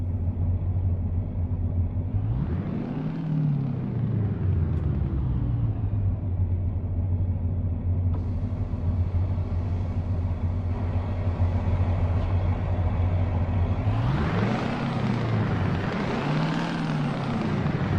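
In a truck simulator game, a modded DAF XF Euro6 engine rumbles deep and loud throughout, swelling twice in strong revving surges and then settling back to a heavy drone.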